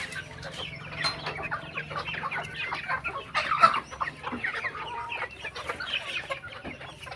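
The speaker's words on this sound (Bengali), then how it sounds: "খাবার দিচ্ছি, মুরগি খাচ্ছে" Chickens cluck and squabble busily while being fed grain, a dense, steady patter of close, overlapping clucks and short squawks with no talking.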